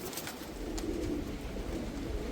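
Punjabi white-coloured pigeons cooing, a steady run of soft, low throaty coos close by, with no talking.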